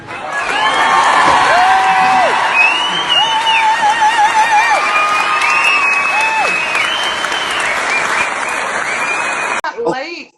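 An audience breaks into loud, sustained applause and cheering, with whoops rising over the clapping, filling the room for about ten seconds before cutting off sharply at the end.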